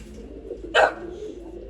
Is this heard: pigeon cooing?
yes